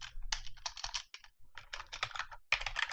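Rapid bursts of typing on a computer keyboard as code is entered in Unity with C#, close and clear, with short pauses between flurries of keystrokes and no talking.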